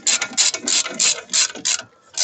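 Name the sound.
ratchet tightening brake disc bolts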